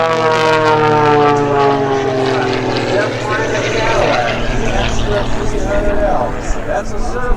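A certified aerobatic propeller airplane drones overhead at an airshow, its engine pitch sliding downward as it maneuvers, loud and close, with a voice talking over it.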